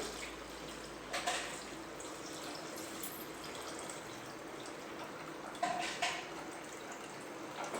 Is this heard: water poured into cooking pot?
yes